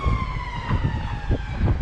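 An ambulance siren wails nearby with a rising and falling tone over low rumbling street traffic.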